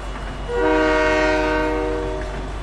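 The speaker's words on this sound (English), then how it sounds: "It's a train whistle of death." A train horn in the Fortnite video game sounds a long, loud, steady multi-tone blast that swells in and holds for about two seconds, with no talking over it.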